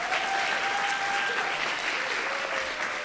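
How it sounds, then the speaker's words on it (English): Audience applause for the 2024 Breonna Taylor Legacy Fellows at a lecture event: steady, moderately distant clapping from a crowd filling the whole stretch, with no talk over it. "Let's give them applause."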